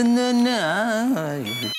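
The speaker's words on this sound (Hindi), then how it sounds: "जेठालाल का फोन बबीता के मोबाइल पर।" A mobile phone ringtone plays close and loud, a melodic, voice-like tune that rises and falls for under two seconds before cutting off abruptly.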